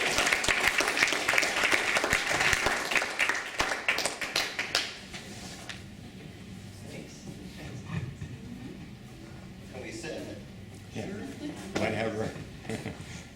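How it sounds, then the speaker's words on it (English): An audience at a meeting breaks into loud applause that fades out after a few seconds, leaving quieter room sounds and people talking nearby. "So let's give them a round of applause."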